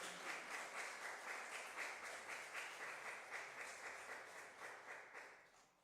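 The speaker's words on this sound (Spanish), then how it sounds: "¿Por qué no le damos un aplauso fuerte al Señor Jesucristo?" A church congregation claps together in sustained applause, steady and dense, rising and falling in rhythmic waves with no talking over it.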